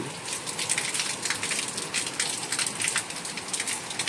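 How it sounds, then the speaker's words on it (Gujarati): Heavy rain pours down steadily, a dense continuous patter drumming on surfaces with no other sounds. "વરસાદ આવી ગયો છે પાછો બહુ"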